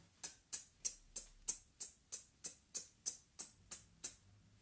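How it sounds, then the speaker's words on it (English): Closed hi-hat cymbals on a drum kit ticking alone in an even pulse, about twelve crisp, short metallic hits, quiet and close. "That's the hi-hat, which is like a sandwich of two cymbals together."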